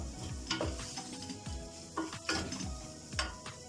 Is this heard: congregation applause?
no